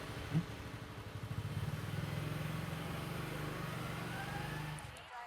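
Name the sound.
motorcycle engine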